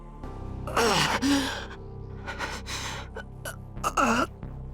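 A character in the Fate Stay Night video game gasps sharply, then breathes raggedly and lets out another strained gasp, close and voiced, over a quiet musical backdrop.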